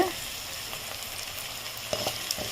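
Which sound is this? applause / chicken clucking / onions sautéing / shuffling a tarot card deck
onions sautéing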